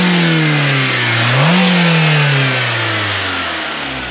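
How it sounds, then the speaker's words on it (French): A car engine of nearly 200 hp in a car weighing about one tonne revs hard up to a 5500 rpm limiter, heard from the engine bay rather than the exhaust; a loud, steady rising drone with a brief pitch bump, then easing off, no talk. "je pense qu'on a plus de bruit sur le compartiment moteur"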